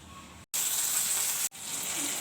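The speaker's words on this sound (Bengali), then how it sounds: "এই যে পটল আলু ভাজা হয়ে গেছে, আর এখানে হচ্ছে মশলা কষানো" Spices frying in a pan for a pointed gourd and potato curry, a steady bright sizzle in two bursts separated by brief silent cuts, close and fairly loud, no voices.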